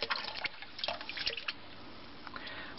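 Water sloshing and dripping as it is drained from a clogged kitchen sink, with scattered close splashes and trickles that taper off into quieter drips.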